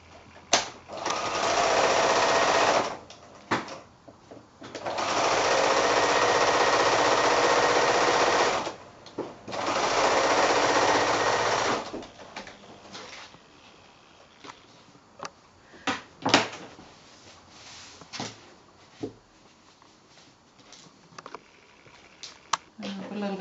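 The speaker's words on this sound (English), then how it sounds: "And back to the sewing machine. This is our last seam" A sewing machine stitching a quilt seam hums in three steady bursts of rapid stitching, close and loud, followed by quieter clicks and handling sounds.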